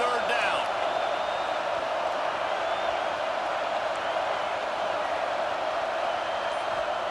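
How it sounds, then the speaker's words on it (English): Steady roar of a stadium crowd in EA Sports College Football 26, rising behind the defense on third down; a dense, continuous wash of cheering that holds loud and even for the whole stretch with no clear talk over it. "Decibels rising as the crowd gets behind this defense on third down."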